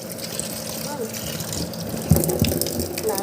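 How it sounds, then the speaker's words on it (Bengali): Jute leaves are washed in water, with steady splashing and sloshing, as if running from a tap, close by and fairly loud, while a voice talks over it. "ভালো করে শাকটাকে ধুয়ে নেবো"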